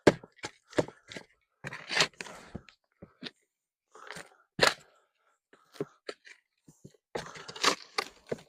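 Soil being mixed with fertilizer in a bucket for planting a bare root fruit tree: repeated short scraping, crunching scoops and gritty stirring, close and intermittent, with pauses between strokes and no talk.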